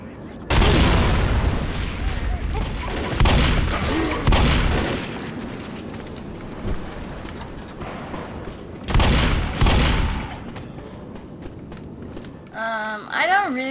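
Shotgun blasts in Left 4 Dead, several loud broadband booms in irregular bursts separated by quieter gaps, with a brief tonal game sound at the end.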